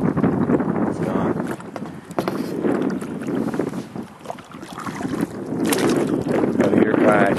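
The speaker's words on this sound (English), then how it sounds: "Out here kayaking. Checking my traps. Not used to one-hand kayaking." A kayak paddled through open water while out checking traps, worked one-handed. Steady wind buffets the microphone in a continuous broadband rush, with water sloshing and paddle splashes close by, swelling louder toward the end.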